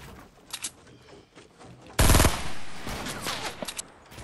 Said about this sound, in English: I'm getting sniped from two directions.